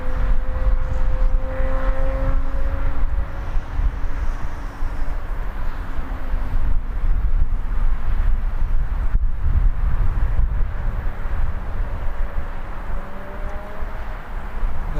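Loganair ATR turboprop being pushed back at Birmingham Airport, a loud steady engine drone with gently sliding whining tones over heavy wind rumble, continuous throughout.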